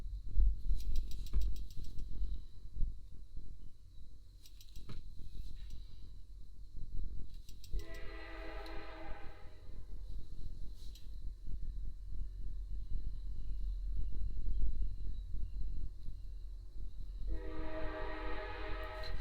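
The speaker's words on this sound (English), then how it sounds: "Sorry about that train." A train rumbles past nearby with a steady low roar and rattle of the rail cars, and its horn blows two long loud blasts, one in the middle and one near the end.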